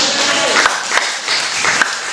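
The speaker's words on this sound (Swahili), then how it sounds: "Kama umenielewa, piga makofi." A church audience at a Christian teaching on finances claps on the preacher's request, a steady patter of applause with a few sharper individual claps standing out near the front.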